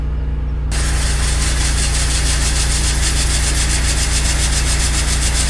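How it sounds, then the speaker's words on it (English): Farm planter auger switched on briefly to clear it out, a loud steady mechanical whirring and rubbing drone with a constant low hum throughout, close and continuous with no talking. "I'm going to clear this auger out."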